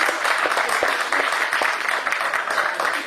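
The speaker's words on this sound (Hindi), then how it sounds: "जोरदार तालियों से सरकार स्वागत करें" An audience at a Hindi poetry gathering (kavi sammelan) claps loudly and continuously, a close, dense burst of applause with no speech on top.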